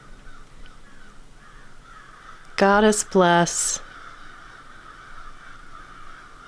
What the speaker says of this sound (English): A murder of crows roosting in the trees.